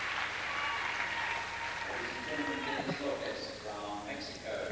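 Arena crowd applauding after a vault at a 2000 women's gymnastics championship, a steady wash of clapping heard somewhat distant beneath a commentator's voice.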